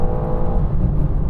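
A new BMW M4's engine roars at high revs as it accelerates hard on a quarter-mile run, a loud, steady drone with no voices.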